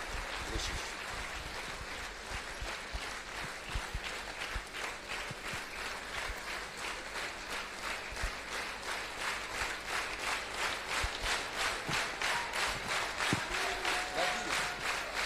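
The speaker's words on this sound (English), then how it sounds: "Give her a round of applause for her talent" Audience applause fills a church hall at an anniversary celebration of the Embassy of God Church, steady and continuous throughout, with scattered rhythmic claps and a few voices mixed in.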